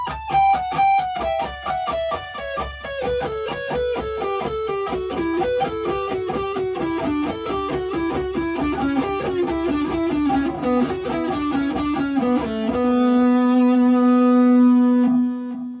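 A rapid run of evenly alternate-picked electric guitar notes descending steadily in pitch, ending on a sustained held note; clean to lightly driven tone, no voices.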